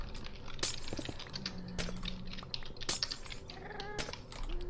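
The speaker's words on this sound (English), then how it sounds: "I hear cat!" A Minecraft cat gives a few short meows, one of them drawn out, amid scattered clicks and sharp game sounds, with no one talking.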